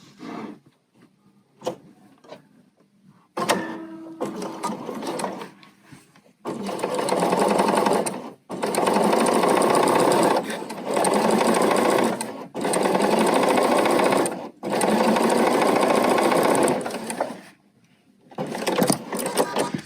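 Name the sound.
Bernina sewing machine stitching pintucks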